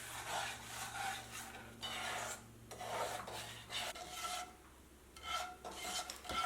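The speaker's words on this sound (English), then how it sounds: "Mix it and keep stirring till it mix it well." Moong dal halwa being stirred in a pan over low-medium heat, giving repeated scraping, rasping strokes in bursts with brief pauses, close and fairly loud, with no talking.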